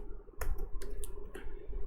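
A handful of crisp, separate key presses on a computer keyboard, spaced unevenly as a short command is typed in a quiet room.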